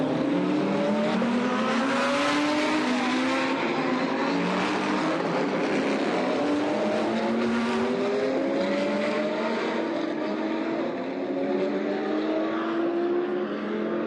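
Race cars at night during a 9 hour endurance race, a loud continuous engine roar with rising and falling pitch sweeps as cars pass and accelerate, no talk.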